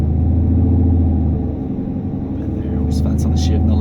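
A 2019 Chevrolet Camaro SS V8 rumbles at a low, steady drone as the driver lifts off the gas around a shift, the engine note dipping and settling back.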